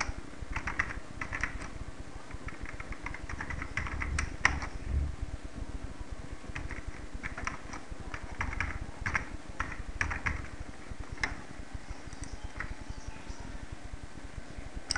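Steady, rapid keystrokes on a computer keyboard as a blog post is typed, running without a break for the whole stretch over a faint fan-like hum, close and fairly quiet, with no voices.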